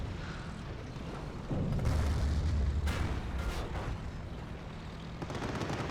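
Tank battle in Company of Heroes with T-34s and Panzer IVs exchanging fire, muffled booming cannon shots and rumbling impacts over a dense low battle din, one heavy blast swelling near the middle.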